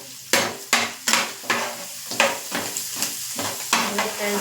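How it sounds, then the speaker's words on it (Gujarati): Green chili and spices sizzle in a pan for Kathiyawadi-style dahi tikhari while being stirred. About ten close, rhythmic scraping strokes ride over a steady frying hiss. "આપણે એને બરાબર હલાવી લેશું"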